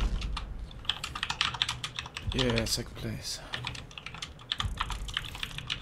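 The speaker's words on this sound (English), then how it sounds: "stop typing" Rapid clicking keystrokes on a computer keyboard patter close to the mic, with brief bursts of faster typing. Someone speaks briefly over it midway.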